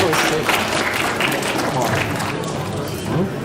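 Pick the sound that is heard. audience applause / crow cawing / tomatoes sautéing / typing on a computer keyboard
audience applause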